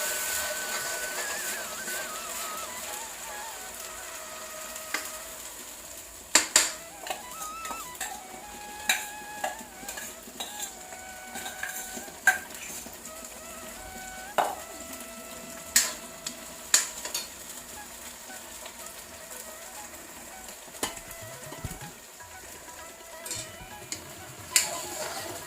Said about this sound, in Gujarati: ડુંગળીની ગ્રેવીને બરાબર તેલમાં સાતળવાની છે.